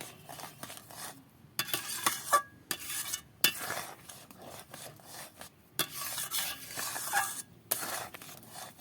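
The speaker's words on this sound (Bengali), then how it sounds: "এবার এটা আমি এইভাবে অনবরত নেড়ে নেড়ে এটাকে জাল করে একটু শুকিয়ে নেব" Raw mango shukto being stirred nonstop in a pan, with repeated scraping and rubbing strokes of a spatula against metal arriving in uneven bursts with short pauses between them, heard close up without any voices.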